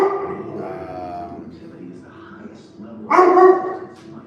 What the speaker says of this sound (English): Dorman, nice puppy.